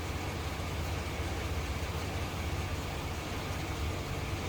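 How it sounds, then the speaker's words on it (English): A 4x4 Astro Van engine runs at idle, a steady broadband rumble with no pauses, close by and filling the whole moment without any talking. "Okay, truck's running."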